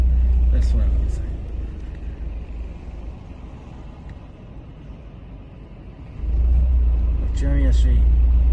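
Road traffic passes at night in Matsumoto, Japan, a deep low rumble swelling as vehicles go by near the start and end, with quieter road noise between and people chatting over it.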